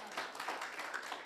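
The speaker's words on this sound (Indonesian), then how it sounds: "Beri tepuk tangan buat Tuhan kita" Applause from a church congregation during a Sunday worship service: a dense, even wash of many hands clapping, faint and somewhat distant, continuous throughout without distinct individual claps.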